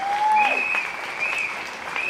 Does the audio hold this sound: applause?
yes